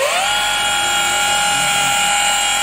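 A car polishing machine spins on a painted panel while applying wax, a loud steady high-pitched whirr that rises quickly at the start and then holds constant.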